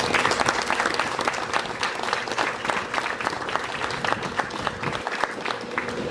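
A hall audience applauds the company board at an anniversary event, sustained dense clapping heard close and loud, with a faint murmur of voices beneath.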